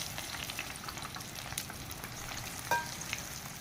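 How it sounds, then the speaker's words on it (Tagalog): Beef tripe deep frying in hot oil, a steady dense crackling sizzle close by, with a brief louder pop near the end and no talking. "Iprito natin yan hanggang sa maging crispy."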